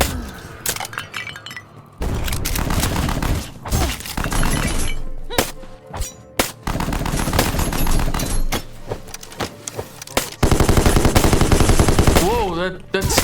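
Gunfire crackles throughout a hectic Black Skylands sky battle, loud bursts and rapid shots mixed with breaking and clinking impacts, dense and near, ending in a rising tone.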